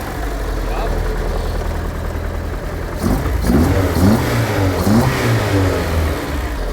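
Honda engine in a drift car running rough on only three cylinders, idling unevenly and then revving up in uneven surges, loud and close, with a steady mechanical drone throughout.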